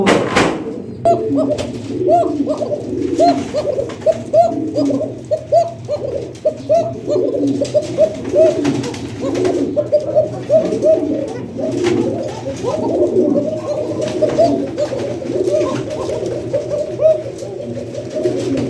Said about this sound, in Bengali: ডাকটা তো দেখছেন নাকি কি সুন্দর ডাকে এটা হচ্ছে অরিজিনালি বাসিরাজ কোকা কবুতর